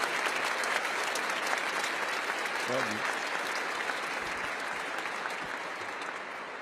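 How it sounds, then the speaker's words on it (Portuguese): An assembly at a church gathering bursts into sustained, dense applause from many hands, steady and full throughout, with a brief voice rising over it midway. "Uma salva de palmas bem forte."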